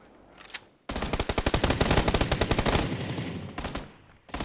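A close, sustained burst of rapid automatic gunfire rattles out in a video game firefight. The shots fire in an even, fast rhythm for about two seconds, then fade, with brief shots before and after.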